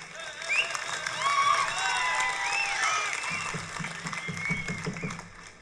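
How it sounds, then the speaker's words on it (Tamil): A crowd at a Tamil festival gathering claps and cheers after a speech, the applause rising and holding in the background while scattered voices and shouts ring over it and a few sharper claps stand out near the end. "இந்த கைத்தட்டலை எல்லாம் நான் வந்து தொல்காப்பியருக்கு பார்சல் பண்ணிடுறேன்."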